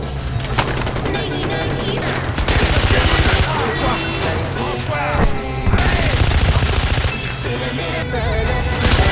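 Gunfire in the video game Far Cry 4: dense bursts of automatic shots and loud booms come in long, heavy stretches between quieter moments, with game noise underneath.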